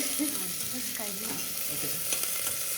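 Garlic fries in hot oil, giving a steady close sizzle with scraping and stirring sounds throughout a short stretch, with no talking.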